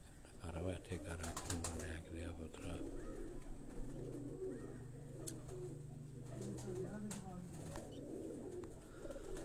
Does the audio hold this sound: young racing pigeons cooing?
yes